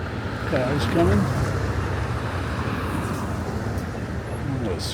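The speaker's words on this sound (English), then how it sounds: "Cars coming." Cars roll past on 7th Avenue in New York City, a steady broadband traffic wash with a swell of passing vehicles, while voices talk faintly in the street.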